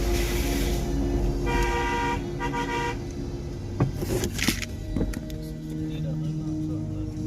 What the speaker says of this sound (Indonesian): Kita sudah klakson tuh, kamu mengerti kah?